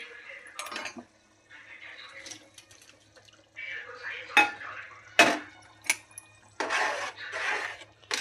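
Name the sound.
tomato curry gravy simmering with fried paneer added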